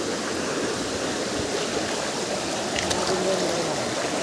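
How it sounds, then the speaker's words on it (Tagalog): Naibuan Falls pours steadily, a constant moderate rush of water without pauses and no voices over it. "Naibuan Falls."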